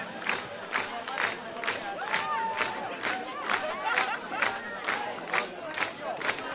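An audience claps in steady rhythmic unison, with roughly two claps per second carrying over crowd chatter and occasional shouts.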